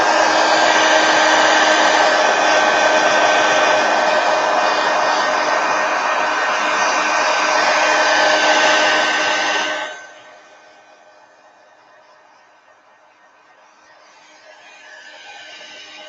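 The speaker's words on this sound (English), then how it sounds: "I'm going to hit this with a heat gun real quick." A heat gun blasts a loud, steady roar of hot air to dry craft paint, running continuously up close for about ten seconds before cutting off, leaving a quieter low hum behind.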